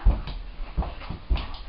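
A dog whimpers in a kitchen, giving a few short soft whines and yips over low rumbling room noise, with no talking.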